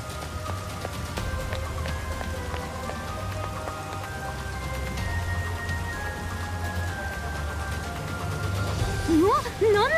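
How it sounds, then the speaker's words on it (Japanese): Rain pours steadily in a level of the video game Persona 5 Strikers, a dense continuous patter mixed with soft game music tones and a rising effect near the end. "これは雨というやつか。 急に降り出してきたね。"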